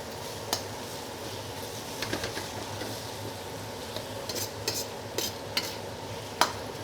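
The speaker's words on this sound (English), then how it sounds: "So a nice gentle stir fry this time for our garlic and our onion" Garlic and onion stir-fried gently in a pan for Chinese seafood pan-fried noodles, a low steady sizzle with scattered scrapes and clinks of a utensil against the pan, close and fairly quiet.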